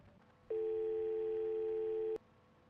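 A steady electronic telephone tone sounds alone for under two seconds, then cuts off sharply with a click, leaving quiet room hiss around it.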